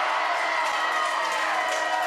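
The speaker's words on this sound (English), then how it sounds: "And well may these South Adelaide fans cheer." South Adelaide fans cheer after a winning kick at a SANFLW women's football match, a steady roar of crowd cheering and whoops that holds unbroken for the whole stretch.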